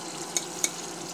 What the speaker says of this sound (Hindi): ये रिफाइंड गर्म हो चुका है, अब मैं इसमें बॉल बना कर डालूँगी।